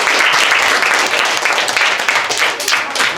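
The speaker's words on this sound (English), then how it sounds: "Give the man a round of applause." Classroom applause during a pumpkin seed counting lesson, a loud, close burst of students clapping together that runs steadily through the few seconds with no pause.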